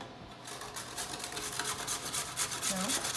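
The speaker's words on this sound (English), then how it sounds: "this potato, and then grate it." A potato rasped across a kitchen grater makes a steady run of coarse, scraping strokes, close and fairly loud with no talk.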